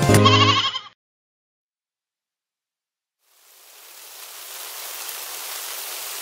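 A lamb bleats loudly and close for under a second, then after a silent gap a soft, steady patter of rain rises and continues alone.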